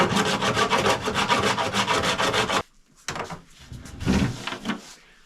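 Coarse wood rasp rubbing in quick, even strokes across a wooden hatch, loud and close for about two and a half seconds, then a pause and a few slower, scattered scrapes.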